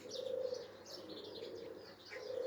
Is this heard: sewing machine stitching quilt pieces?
no